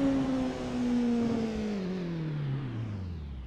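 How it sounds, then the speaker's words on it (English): Onboard race car engine decelerating, its steady whine falling smoothly in pitch as the car slows, loud and close with no talk. "We're going to ride on board and I'm going to let you listen to that engine."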